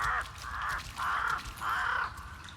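Crow cawing in the Gollum video game, four loud harsh caws in a steady, evenly spaced rhythm, close and clear with no talking.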